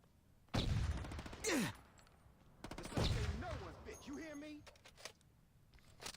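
Rapid bursts of automatic gunfire from a shooter video game with rocket-launcher enemies, rattling in two loud volleys with brief gaps, while game voices and groans sound between and after the shots.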